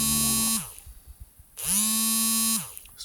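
A mobile phone vibrates with an incoming call, two loud buzzing bursts of about a second each separated by a pause, with faint rustling and handling noise between them.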